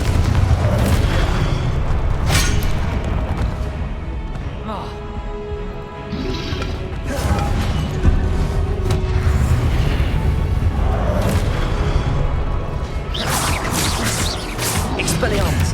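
Confringo fire spell explosions in the Hogwarts Legacy video game boom repeatedly over a dense, continuous bed of game effects and music, with sharp blasts near the start and toward the end.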